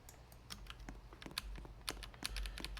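A computer keyboard's Q key is tapped rapidly and repeatedly, producing a quick, irregular run of sharp clicks, close and fairly quiet, with no voices.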